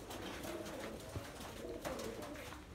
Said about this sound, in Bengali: হ্যাঁ বাজির কবুতর, সাদা কবুতর তো